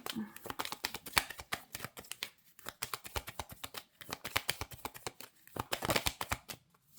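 Tarot cards are shuffled and drawn close by, giving a steady run of quick, crisp flicks and riffles in uneven bursts that go on throughout, with short gaps between them.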